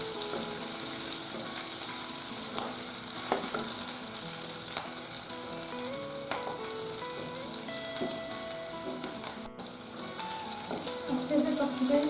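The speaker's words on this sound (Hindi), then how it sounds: "इसको अच्छे से पका लें" Lentils and spices frying in a pan for Rajasthani panchmel dal, a steady close sizzle with occasional stirring scrapes and clinks, continuous and alone without talk.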